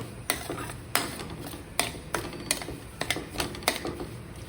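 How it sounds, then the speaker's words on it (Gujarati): Semolina is stirred and roasted in ghee in a pan, giving a quiet series of sharp scraping taps from the spoon at an irregular rhythm, close up with no talk. "હવે આ રવાને આપણે સારી રીતે શેકી લેવાનો છે"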